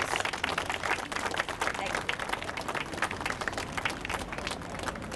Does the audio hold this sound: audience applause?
yes